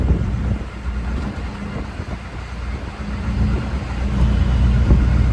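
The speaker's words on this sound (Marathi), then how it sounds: "रिक्षाचा प्रवास होत आहे" Auto rickshaw ride through evening traffic in Bhayandar, Mumbai, with a steady low engine rumble and wind buffeting throughout, swelling slightly louder toward the end; no talking.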